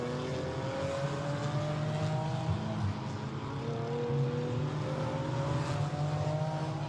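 A BMW GT4 race car engine drones steadily through a qualifying lap at Misano, a sustained mid-distance roar with gently shifting pitch as the car holds speed, no voices.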